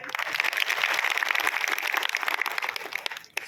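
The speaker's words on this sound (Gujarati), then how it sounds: "જોરદાર તાળી" Dense, crackling clapping from an audience at an agricultural fair in Gandhinagar holds steadily for several seconds before fading near the end, with no speech.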